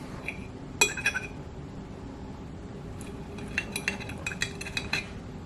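A knife and fork cutting a griddle-cooked breakfast sausage in half on a plate, with scattered metallic clinks and scrapes against the dish in two short bursts over a quiet background, close by with no talking.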